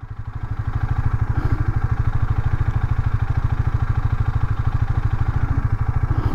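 A KTM Duke 250 motorcycle engine fires up and settles into a steady idle. The loud, close, even thumping pulse continues without a break, and no one speaks.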